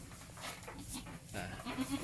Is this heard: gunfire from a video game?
no